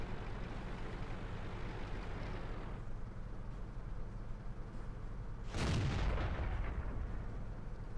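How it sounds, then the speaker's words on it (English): Artillery in World of Tanks, around a Pz.Kpfw.II, rumbles as a steady low battle din, then a single loud boom breaks out near the middle and decays over a couple of seconds. "Something's blowing up. Was that our artillery firing?"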